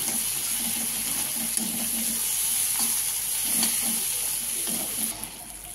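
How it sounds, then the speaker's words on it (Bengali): Turmeric frying in oil for moong dal, a continuous close sizzle with a few soft stirring knocks, fading slightly at the end, no talking. "এর সঙ্গে আমি হলুদটাকে কষে নিচ্ছি"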